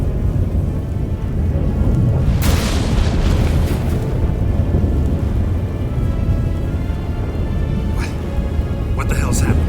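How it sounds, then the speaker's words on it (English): Thunderstorm in the Witcher 3 video game's final battle: a dense, loud wall of rumbling storm noise with a heavy boom breaking through, thunder cracks near the end, and voices talking under the din. "That a storm?"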